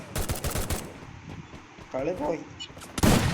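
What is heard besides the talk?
gunfire in Counter-Strike, a video game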